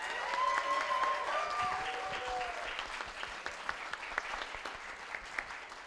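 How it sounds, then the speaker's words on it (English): Audience applause fills the clip, with dense clapping gradually thinning out toward the end while a tone sounds early on. "can we please get one big round of applause for Andrew Stewart?"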